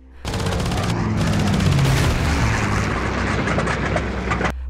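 Sustained rapid aircraft gunfire from a WWII air chase with a Luftwaffe plane rattles loudly for several seconds, dense bursts layered over a rumbling engine drone, cutting off abruptly.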